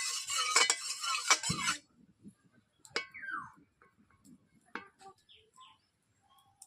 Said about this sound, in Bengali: আমি কড়াইতে তেল দিয়ে দিচ্ছি